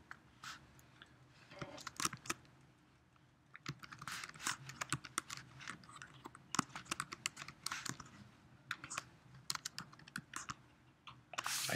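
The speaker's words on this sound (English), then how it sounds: "And I'm going to start typing." Close, quiet typing on a computer keyboard, irregular bursts of key clicks with brief pauses, no speech.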